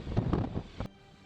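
Gusting wind during a windstorm with sleet beside a brick firehouse roars briefly against the microphone in one loud, rough burst that cuts off abruptly.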